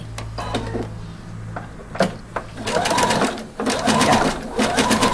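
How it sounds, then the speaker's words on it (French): A sewing machine stitches a zigzag as the needle swings side to side, a rapid rhythmic mechanical chatter in bursts that gets louder and steadier, close by, with a voice talking early on. "le mouvement de l'aiguille en point zigzag, les entraînements, là, les griffes d'entraînement, elles vont pousser le tissu et l'aiguille, elle va aller de droite à gauche"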